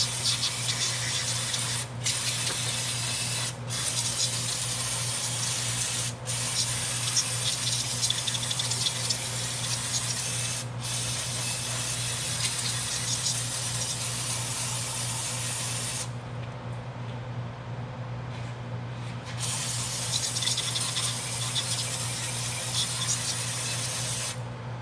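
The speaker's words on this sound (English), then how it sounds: "we're gonna hose this down with brake clean so everything gets dry" Brake cleaner sprays in a long, steady hiss to dry off parts before a leak check, running close and continuous for most of the time with a few brief interruptions and one short pause.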